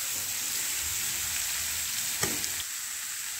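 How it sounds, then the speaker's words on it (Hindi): Chopped papaya frying in a spoonful of ghee gives a steady, close broadband sizzle throughout, with a brief scrape or clink near the middle and no talking. "1 चम्मच घी है और हम इसमें पपीता कटा हुआ डालेंगे।"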